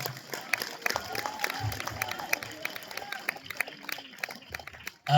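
Audience applause at a mushaira, an Urdu poetry recital in Gokak, Belagavi, India: scattered, fairly steady clapping from a seated crowd for about five seconds, moderately loud, ending in a brief louder burst.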